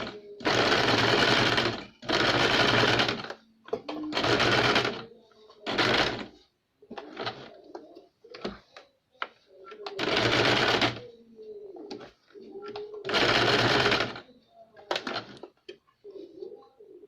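An electric sewing machine stitches a blouse sleeve in several loud, close bursts of rapid whirring, each a second or two long, separated by short pauses filled with faint handling clicks and rustles.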